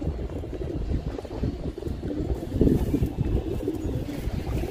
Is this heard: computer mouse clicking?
no